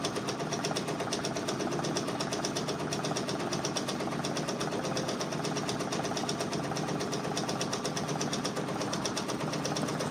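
An embroidery machine stitches out a Drake patch in a steady, fast mechanical whirr with a dense rapid needle rhythm, loud and continuous throughout with no talking.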